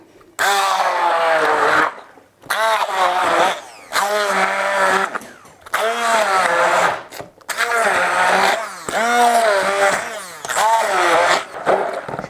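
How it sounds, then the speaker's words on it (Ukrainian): A loud blender whirring in repeated bursts with brief pauses, pureeing bananas, its pitch shifting as the fruit breaks down; no talking over it. "Це все збиваємо в пюре блендером."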